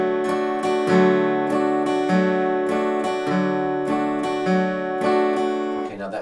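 Acoustic guitar plays the intro to a song, country-folk style with doubled-string picking, a steady repeating pattern close and clear with ringing notes.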